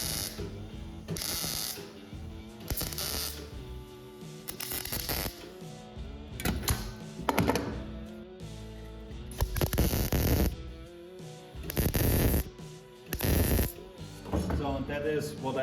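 A welding torch lays spot welds on a car body. Repeated bursts of loud crackling buzz each last about a second, separated by short pauses, close and harsh.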